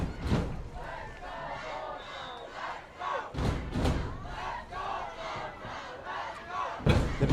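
A varsity high school football crowd at a Matador home game roars and yells for the defense near the goal line, a dense sustained wall of cheering with a few louder surges and thuds.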